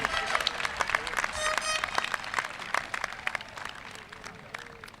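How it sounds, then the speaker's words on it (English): Graduating audience applauding at a high school commencement ceremony, a steady dense clapping from a sizable crowd with a few faint voices mixed in, continuous for the whole stretch. "please give yourselves a round of applause"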